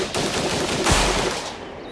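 Gunfire at an outdoor shooting range in evening, sounding as a dense, steady run of rapid shots with one heavier boom near the middle, loud and continuous for about two seconds.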